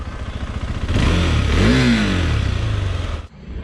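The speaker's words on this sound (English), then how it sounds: "So I'll just turn off this bike." KTM 390 Adventure single-cylinder motorcycle engine idling, then revving up and down in a rising and falling sweep before being switched off, leaving near silence; loud and close, no talking.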